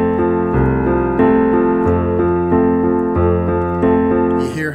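A country-style piano plays a broken chord in straight, even eighth notes: a steady run of clear notes over sustained bass, loud and close, with no talking.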